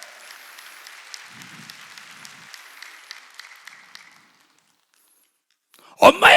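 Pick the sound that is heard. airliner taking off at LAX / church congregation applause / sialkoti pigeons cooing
church congregation applause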